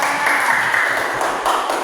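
A classroom breaks into a short burst of applause for the first student group, brisk clapping from many hands lasting under two seconds.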